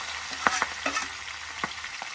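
Kale stir-fried with shredded fried salted snakehead fish and crushed garlic in a wok, giving close sizzling with scattered scraping stirs and clinks over a steady frying hiss.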